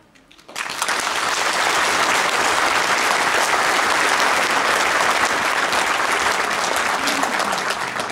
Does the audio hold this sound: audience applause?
yes